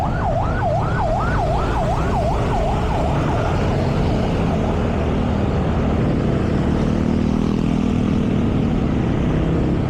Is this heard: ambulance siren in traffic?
yes